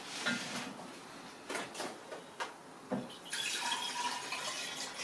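Cool distilled water poured into a kombucha jar, a quiet splashing trickle in short bursts that grows into a steadier pour toward the end.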